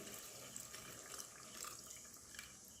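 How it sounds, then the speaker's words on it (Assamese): Hot water poured into a simmering chicken curry pot, a brief, faint, continuous splashing stream with no talking. "ইয়াত মই এতিয়া অলপ গৰম পানী দি দিম।"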